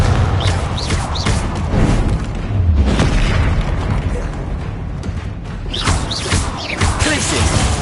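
A Confringo explosive spell blast in the Hogwarts Legacy video game, a sustained loud booming rumble with repeated bursts and heavy low thuds, dense and continuous throughout.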